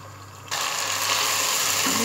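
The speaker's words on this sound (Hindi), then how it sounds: "अब इसकी भुनाई करनी है हमने अच्छी तरह, ताकि दही का पानी खुश्क हो जाए" Beef and yogurt fry in a pot for dahi gosht, a steady loud sizzle that jumps up abruptly partway through and then holds as a continuous close hiss.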